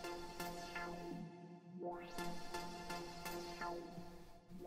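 A synth loop runs through an Ableton Live auto filter driven by a MIDI controller knob, its tone sweeping repeatedly up and down in clear rising and falling arcs, with the sound briefly cutting out midway at a moderate level.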